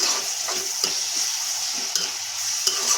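Sliced onions hiss in hot oil in a kadai while a spatula stirs them with occasional light scrapes and taps, a steady close sizzle with no talk.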